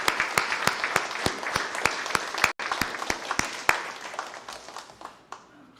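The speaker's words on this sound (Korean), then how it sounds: "출국하시는데 함께 기도해 주시고 안전하게 잘 다녀오시도록 한 박수 하겠습니다." A church congregation claps together in a steady, evenly spaced rhythm, each sharp clap distinct, continuing for several seconds before thinning out near the end.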